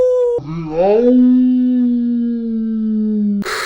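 A human voice imitates a wolf howl, a single sustained note that swoops upward and then holds steady and loud for about three seconds before cutting off into a brief noisy burst.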